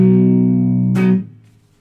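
Guitar plays the intro slide of a song: a sustained, rich note rings, then a quick pick and slide around the midpoint before the sound fades away.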